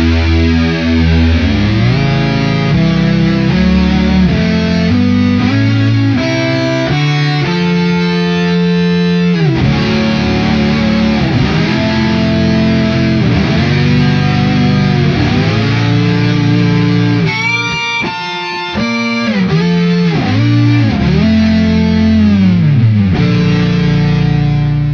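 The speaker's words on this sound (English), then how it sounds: "The Big Muff circuit produces a sound that is right on the edge of being a distortion or a fuzz." An Electro-Harmonix Deluxe Big Muff Pi fuzz and distortion pedal drives an electric guitar, playing thick, saturated sustained notes and chords that shift and bend continuously at steady high volume with no pauses.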